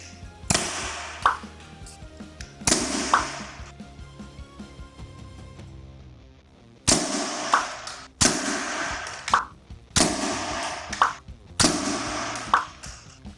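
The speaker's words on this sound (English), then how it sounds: "So I will fire from 6 feet back and try to fire on our target right here" Single-shot Nerf blasters fire at a target from about six feet away, giving six separate sharp launches in two groups, each followed by a short rattling impact, with quiet gaps between.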